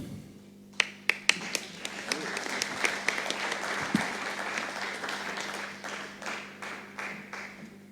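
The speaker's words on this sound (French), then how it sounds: "Applaudissements pour Badia" Applause at a municipal council meeting: a few sharp, close claps, then a fuller, moderate round of clapping from the room that slowly thins out, with low voices beneath.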